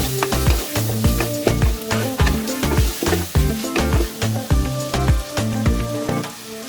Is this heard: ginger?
yes